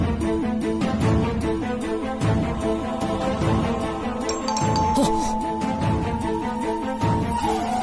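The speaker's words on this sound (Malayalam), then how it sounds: "Arrow calling bell അടിക്കുന്നുണ്ടല്ലോ." A calling bell at a house door rings in a repeated, steady ding-dong melody, several chimes in a row with bright tonal notes, moderately loud with no talk over it.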